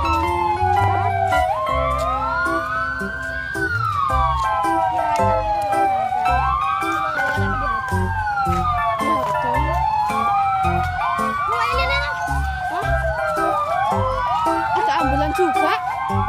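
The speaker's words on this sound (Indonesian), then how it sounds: "Ada ambulan, guys." An ambulance siren wails repeatedly at a town square in Purworejo, its rising and falling tone overlapping in loud sweeping cycles over rhythmic low thumping and background crowd noise.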